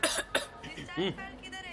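Two sharp coughs in quick succession, close up, followed by a voice speaking briefly.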